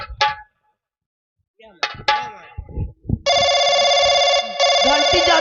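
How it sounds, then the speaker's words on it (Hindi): A telephone rings loudly with a continuous electronic trill after a few brief knocks and thumps, pausing once briefly before ringing on. "घंटी जाती है।"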